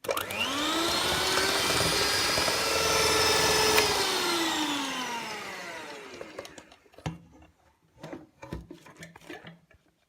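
Electric mixer whirring through sufganiyot dough with milk, a loud steady motor whine that slowly drops in pitch and then cuts off, followed by scattered knocks and handling clatter.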